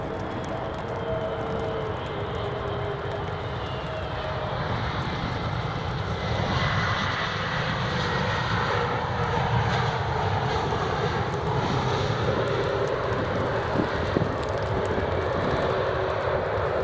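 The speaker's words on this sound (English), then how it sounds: "British Airways A320neo" A British Airways Airbus A320neo jet airliner at Edinburgh Airport gives a steady, loud broadband engine roar that swells slightly partway through and holds strong, with no talking.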